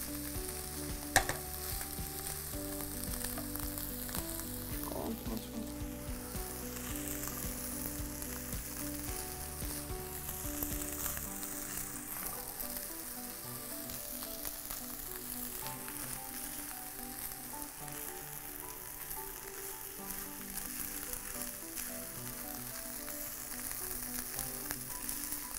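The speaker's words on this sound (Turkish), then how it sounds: "Yavaş yavaş karıştırıyorum." Carrots fry and get stirred in oil in a pan for Uzbek pilaf, giving a steady, close sizzle that runs throughout with faint scrapes from the stirring.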